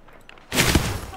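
A Hemlock rifle on single fire in a video game lets off a sharp, loud burst after a moment of near quiet, ringing out briefly up close.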